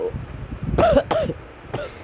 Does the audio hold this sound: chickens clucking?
no